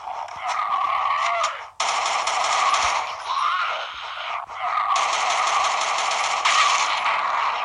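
Gunfire in a multiplayer shooter game, with dense bursts of rapid shots and clattering that cut off abruptly and resume, fairly loud and close with no speech over it.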